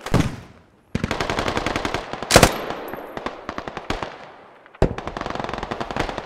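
Video game gunfire from a British LMG as a team fires at a hill in Logar Valley: long, rapid automatic bursts of sharp shots, broken by brief pauses and one louder blast, close and loud with no voices.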